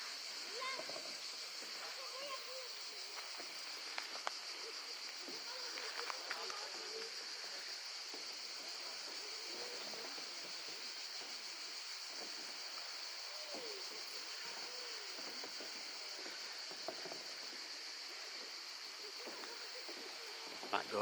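A river in a French village flowing past with a constant close rush and splashing of water, a continuous wash that holds steady for the whole stretch, with a few faint birds and occasional voices over it.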